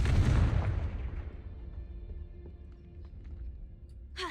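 A Confringo explosion spell goes off in a video game, a heavy booming blast up front that rolls off into a long fading rumble, followed by a faint tail and a small late click.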